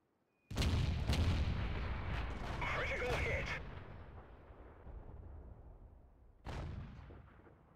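The FV304 artillery gun fires in a tank video game: a loud, deep boom rolls into a long rumbling decay, and a second shot lands near the end.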